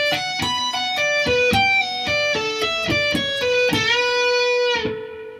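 An electric guitar picks the intro solo, a quick run of bright, sustained single notes with hammer-ons, played alone at a steady, moderately loud level with the final note left to ring.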